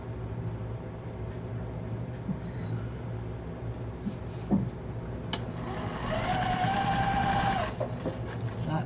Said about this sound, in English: Now you take these 2 pieces and sew them together all by themselves.